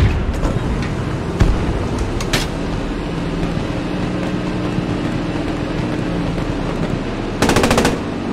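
Loud machine-gun bursts crack out in the Post Scriptum WW2 video game, a tight volley near the start and another sharp burst near the end over steady tank engine rumble.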